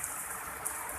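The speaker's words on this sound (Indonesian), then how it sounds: "Hujan lebat." Heavy rain pouring during a flood, heard from a shelter hut: a steady, dense hiss of falling water, constant and fairly close, with no voices.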